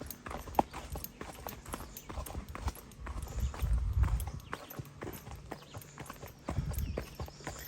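Horse hooves clip-clop steadily on a ridden pony or horse outdoors during a holiday ride, a close, moderately quiet rhythmic clatter with occasional low rumbles and brief faint voices.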